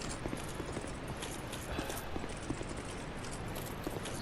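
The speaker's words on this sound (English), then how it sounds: "and them electric horses are some right bastards." Electric horses gallop in Dark Souls 2, a rapid, steady clip-clop of hooves over a thick, noisy wash of game sound, fairly even in loudness throughout.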